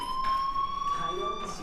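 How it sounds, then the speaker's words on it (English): A school fire alarm in the video game Life Is Strange sounds as a steady, piercing electronic tone that holds unbroken throughout, with faint brief voice-like sounds underneath. "Hey, do you hear that fire alarm?"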